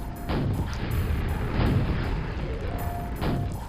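Rocket launcher explosions in Quake, shown as a few heavy booming blasts spread across a few seconds over a steady low rumble of game ambience, fairly loud throughout.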